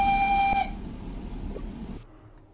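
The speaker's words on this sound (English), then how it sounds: "Basically, this is the whistle here." Steam locomotive whistle of a Fowler 4F in Train Simulator 2016, a single loud sustained tone lasting about half a second, followed by a lower rumble of the engine that fades away.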